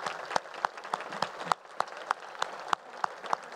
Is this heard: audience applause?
yes